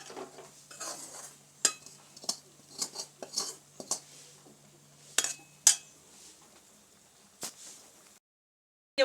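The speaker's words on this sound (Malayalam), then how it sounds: "തേങ്ങ കൂടി ഇട്ട് നമുക്ക് ഇളക്കിയെടുക്കാം." Grated coconut is stirred in a pan for jackfruit laddu, with a spatula scraping and tapping the metal in irregular, close strokes over a faint low hum. There is no talk, and it ends in a brief silence.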